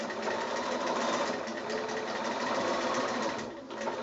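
A sewing machine runs a straight stitch on a quilted snap bag. It hums close and steady for a few seconds, then slows briefly near the end.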